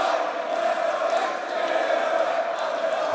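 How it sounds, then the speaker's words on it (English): Esports arena crowd at a DreamHack Open grand final in Rotterdam roaring and cheering for the home team, a loud, dense and steady wall of voices that holds for the whole stretch. "And the crowd starts to roar."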